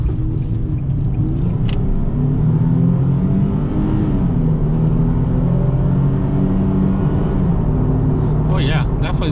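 A 2015 Nissan 370Z V6 engine drones steadily and pulls up through its revs, a continuous low rumble close by with a voice talking over it.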